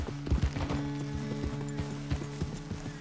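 Horse hooves clip-clop steadily on the ground in Red Dead Redemption 2, a close, rhythmic series of hoof strikes over a low ambient hum with no talking.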